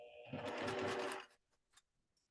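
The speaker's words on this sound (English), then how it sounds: "Let me know if the sound of the sewing machine sounds really bad." A sewing machine runs in one steady burst of rapid stitching for about a second, then stops, followed by a few faint clicks and small mechanical sounds in near silence.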